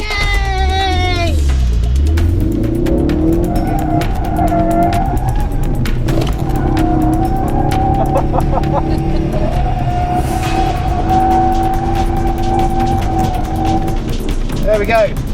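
A Ford Focus RS in drift mode on a racetrack, with long sustained tire squeals and a rising, falling engine note that run loud and close throughout, a brief voice near the start.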